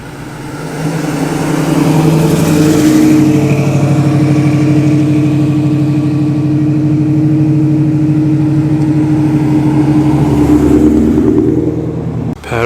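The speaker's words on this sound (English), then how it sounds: "Distinctive V8 burble now of two Mustangs." Two Ford Mustangs with V8 engines idle and burble at a classic car show, a loud, steady, low rumble that holds for about twelve seconds with no talk.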